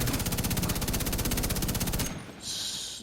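Light machine gun firing in The Division 2, a long unbroken burst of rapid, evenly spaced shots for about two seconds, loud and close, followed by a brief lull and a higher-pitched game sound effect.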